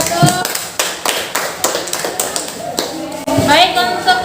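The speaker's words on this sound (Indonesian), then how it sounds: "Masih aplaus dulu untuk kelompok 1." A classroom of students applauding a presenting group, a burst of close, sharp hand claps in uneven rhythm that thins out, followed by a teacher speaking over the room.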